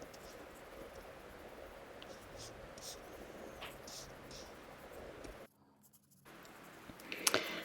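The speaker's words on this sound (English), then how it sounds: "I will take my eraser and use that as a drawing tool as well." Soft scratchy rubbing of an eraser worked across drawing paper, faint irregular strokes over a quiet room hiss, broken by a brief silent gap and a few louder taps near the end.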